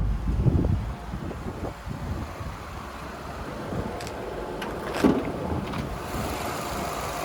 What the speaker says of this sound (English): we'll have a look underneath the bonnet while the engine's still running for you